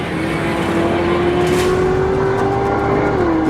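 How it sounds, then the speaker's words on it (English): A loud 1977 Chevy fitted with a Corvette engine roars steadily at close range, its engine drone holding a sustained pitch that climbs slightly before dropping near the end, with no talking. "It was a 1977 Chevy, but it had a Corvette engine in it. And so it was unbelievably loud"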